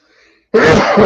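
A single sharp sneeze bursts out abruptly after a brief near-silence, loud and close, ending the short moment.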